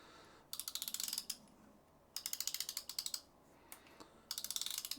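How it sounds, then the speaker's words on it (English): Drag clicker on a Piscifun Alloy M fishing reel gives three loud bursts of rapid, sharp ratcheting clicks as line is pulled, each lasting under a second, separated by short quiet gaps. "first attempt and we have a drag clicker in"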